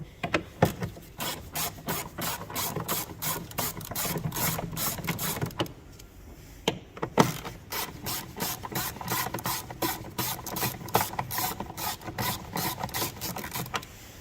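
A ratchet undoing bolts on a MINI R50 front door card, clicking in long rapid runs of pawl ticks, close and fairly loud, with a brief pause midway before the ratcheting resumes.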